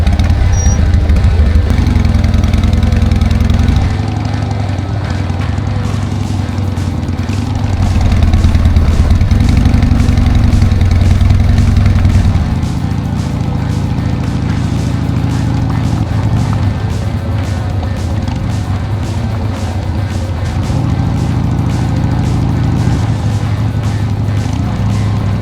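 A rebuilt Harley motorcycle engine under way on laps, a loud steady close-up drone whose pitch rises and falls as the rider changes speed, with wind rush and no talking.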